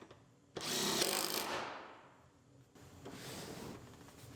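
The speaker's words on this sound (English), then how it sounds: "Bolt the seat back down." A power tool bolting a Pontiac Grand Am GT car seat back down: a close whirring burst that winds down, then a second quieter run after a pause.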